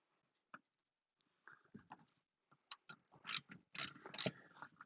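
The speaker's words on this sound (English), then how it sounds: "And then you just tighten this down." A bolt is tightened on a Schroth Racing Quickfit racing harness with a ratchet, giving quiet, close, irregular clicking bursts that grow denser and louder toward the end.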